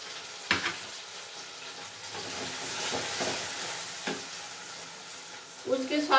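A paste of boiled ginger, garlic and cashews hits a hot pan, setting off a soft, steady sizzle with a few sharper splutters and clatters, fairly quiet overall.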